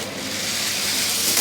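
A Hot Wheels toy car speeds along a plastic track in a lane race, giving a steady whirring rush that swells toward the end, close by and with no talk over it.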